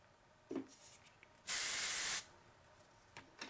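Hairspray from an aerosol can hisses onto curled hair in one short, steady, close spray of under a second, with faint handling rustles before and after.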